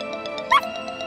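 A cartoon puppy in a children's show about rescue vehicles gives a single short, high yip-like bark over a soft background of rhythmic musical ticks.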